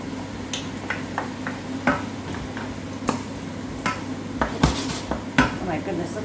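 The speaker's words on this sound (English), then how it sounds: "I'm going to add in the red and yellow and the green peppers." Sliced red, yellow and green peppers tipped onto softened onions in a pan, giving faint clatters, scrapes and sharp knocks of utensil against cookware spread irregularly over a low background hum.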